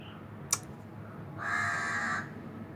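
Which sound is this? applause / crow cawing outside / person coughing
crow cawing outside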